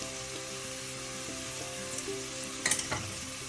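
Spices fry in a pan for a white tuna curry, with a steady faint sizzle and a few clinks of stirring near the end, and no voices.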